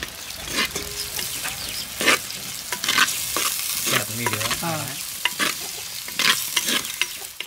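Onions, green chillies and tomato fry in a pan while a spoon stirs and scrapes repeatedly, loud close sizzling punctuated by sharp clinks and scrapes, no voices.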